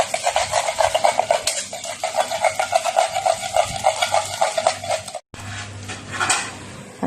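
Eggs being whisked with salt, sugar and shiitake mushroom sauce for Fuji-style steamed egg custard, a steady rapid clatter of whisk against a bowl that runs for about five seconds, pauses briefly, then resumes more softly.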